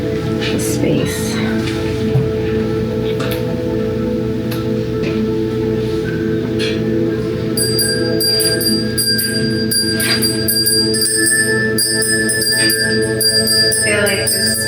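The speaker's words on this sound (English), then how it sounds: "I'm going to take a little walk through with the Tibetan ringing bells just to cleanse the space" Tibetan ringing bells carried through a room to cleanse the space, bright sustained metallic tones shimmering over a steady low hum, with several ringing strikes clustering later on.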